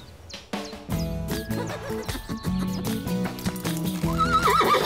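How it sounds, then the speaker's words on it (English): A horse being groomed whinnies and neighs over a run of clip-clopping hooves, loud and close, amid a musical cartoon-style soundtrack. "See our young hero grooming his horse"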